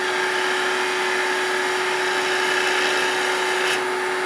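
A wood lathe spins as a skew chisel cuts a bead, giving a continuous whirring hum with a steady hiss of cutting throughout.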